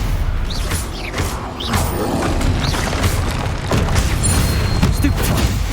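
Bombarda blasting spell in the Hogwarts Legacy video game, a loud continuous rumbling explosion with crackling mechanical debris and booming impacts, dense and near throughout.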